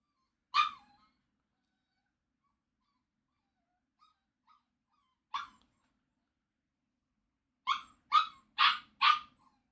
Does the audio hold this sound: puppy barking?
yes